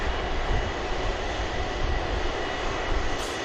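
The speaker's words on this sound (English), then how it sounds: "What an incredible aircraft this is." Airbus A330 jet engines roar on the runway at Manchester Airport, a dense, steady, loud rumble that holds for several seconds without a break.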